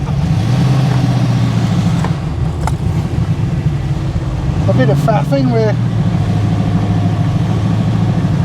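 A modified TVR Griffith 500 engine idles steadily up close, a low constant drone that briefly rises around the midpoint, with someone talking over it.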